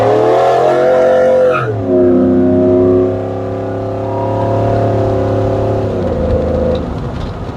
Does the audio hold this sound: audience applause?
no